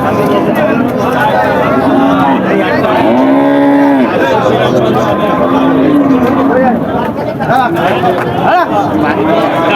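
A crossbred cow lows and moos repeatedly in a noisy cattle market in Jessore, Bangladesh, with a crowd of people chattering loudly all around.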